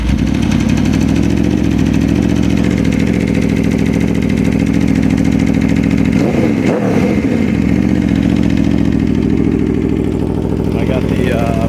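A 2011 Aprilia RSV4 fitted with a Dominator R short exhaust idles loud and close with a steady throbbing rumble, and a brief blip of the throttle comes around the middle.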